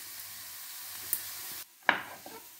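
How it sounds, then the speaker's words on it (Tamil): Onions frying in oil for a mushroom curry, a steady hiss of sizzling broken by a brief pause, then a sharp clatter and renewed frying, close and moderately quiet. "வெங்காயம் பொரிஞ்சு வந்து கொண்டு இருக்குது."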